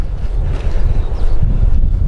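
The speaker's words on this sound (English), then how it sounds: "It's a bit windier than I thought." Wind blowing outdoors near coastal gullies, buffeting the microphone with a loud, uneven low rumble that gusts throughout the clip.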